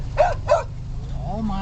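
A small dog barks twice in quick, sharp succession, close by, followed by a softer whining tone, with a low background hum underneath.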